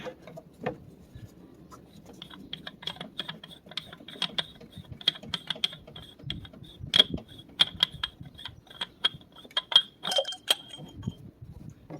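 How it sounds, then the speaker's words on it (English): An oil catch can is unscrewed from its base on a Genesis Coupe 2.0t, giving faint, close metallic clicks and small clinks at an irregular pace, with quiet handling noise underneath. "So you just unscrew it from the bottom."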